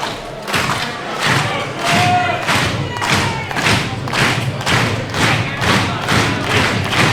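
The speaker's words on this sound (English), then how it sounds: "fans are clapping and stomping their feet" Wrestling fans pound out a steady rhythm of claps and foot stomps in an arena, loud rolling thuds repeating about twice a second from a large crowd.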